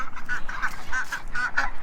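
Free-range ducks at a backyard coop give a quick run of nasal honking calls, several short bursts in an uneven rhythm, fairly close and clear.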